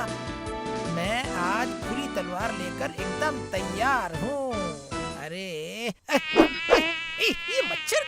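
Cartoon mosquitoes whine and buzz almost nonstop, their pitch swooping and wavering, loud and close, with voices mixed in throughout.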